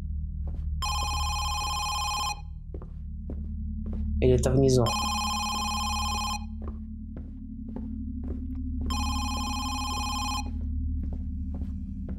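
In the horror game Home Sweet Home, an old-style telephone bell rings in three long bursts over a low ambient hum, with soft footsteps and a brief voice in between.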